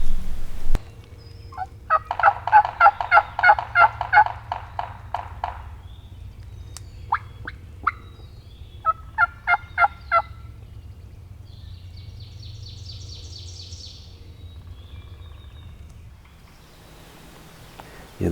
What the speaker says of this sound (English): They gobbled for a while and then shut up.